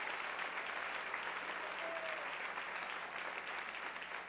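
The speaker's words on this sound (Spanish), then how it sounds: "Dale un aplauso al Rey." A church congregation claps in a continuous, even burst of applause that fills the room from start to finish, many hands blending into a dense roar.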